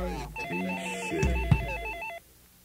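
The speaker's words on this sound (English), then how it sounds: "I'm awakened by the incessant ringing of a telephone." A telephone rings with a rapid electronic trill, one long burst that cuts off abruptly.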